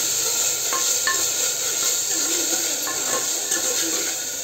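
Food sautéing in a pan for chicken chalna, a steady close sizzle with occasional light scrapes and clinks of a spoon against the pan, continuous and fairly loud.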